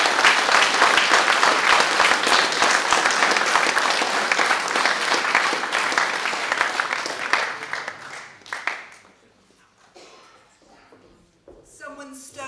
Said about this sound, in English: give her a round of applause for being so awesome